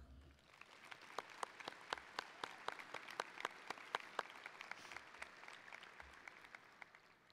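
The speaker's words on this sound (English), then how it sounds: "Please give another round of applause for all the coaches at Fargo South." Applause for the coaches at a Fargo South High School graduation ceremony, a crowd clapping steadily with distinct individual claps standing out in a regular rhythm, heard from a distance and fairly faint.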